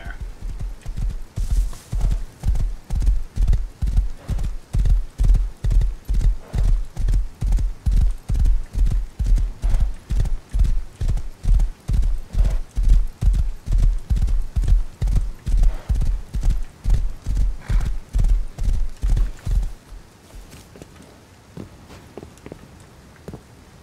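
A thoroughbred horse gallops in the Rust survival game, its hooves pounding in a fast, steady clip-clop rhythm for about twenty seconds before stopping abruptly, close and loud.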